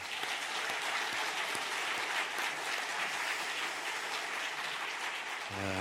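A church congregation applauds warmly to welcome new members at a Sunday service, a loud and steady wash of clapping lasting several seconds that ends abruptly, with no voices over it.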